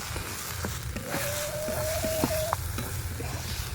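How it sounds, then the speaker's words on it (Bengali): Potato filling for kachori being stirred in a kadai as it dries, a continuous close sizzle with spoon scrapes and taps against the pan and a short squeak partway through. "এইভাবে আরও দু মিনিটের মতো নাড়াচাড়া করে নেব"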